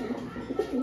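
Pigeons imported from Oman, kept for sale at a market in Madhyamgram, give low, soft cooing calls in a few rounded pulses, close by and moderately loud, with no talk.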